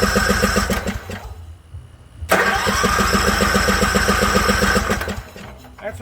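A Troy-Bilt Pony lawn tractor engine being started, close and loud: a cranking, sputtering run that dips briefly, then catches into a steady rhythmic mid-pitched engine chug, with a voice heard at moments.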